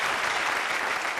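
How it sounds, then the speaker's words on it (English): Steady audience applause fills a short stretch at a speaking event, dense and even clapping from a crowd with no voices over it. "Please give him a round of applause."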